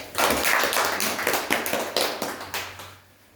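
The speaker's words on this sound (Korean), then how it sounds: "박수 한번 쳐봐." An audience claps together in a lecture on stock charts, a burst of many overlapping hand claps that swells quickly, holds for a few seconds, then thins out and fades near the end.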